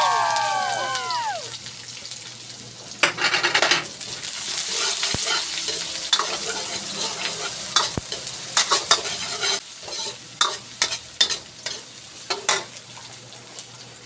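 Garlic and red onion sauté in a hot pan for pork giniling, giving a steady sizzle with repeated scraping and stirring clatter of a utensil against the pan, close and loud throughout.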